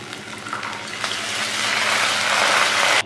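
Water is poured into a pan where spice paste has been frying for an egg malai curry, setting off a loud hiss and sizzle that builds steadily, then cuts off abruptly.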